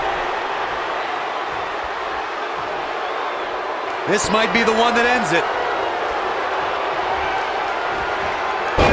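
A video game arena crowd at a WWE 2K19 wrestling match between Sasha Banks and Charlotte rumbles and cheers in a steady background wash while a commentator talks over it.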